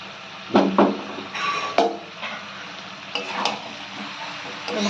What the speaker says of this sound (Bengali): এর মধ্যে আমি সেদ্ধ করা সবজিগুলো সব দিয়ে দিচ্ছি।